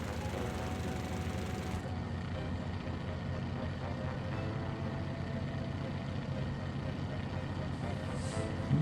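Small airplane cruising with flaps lowered, a steady droning engine hum filling the whole stretch at even loudness, with a voice talking over it.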